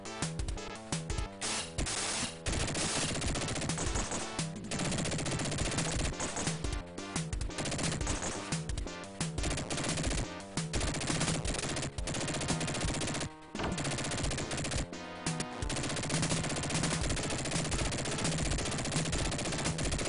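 Rapid gunfire from the Sega Genesis game Dick Tracy, a steady chatter of shots blended with dense game music and effects that run loud and continuous throughout.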